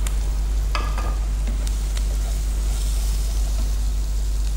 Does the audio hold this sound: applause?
no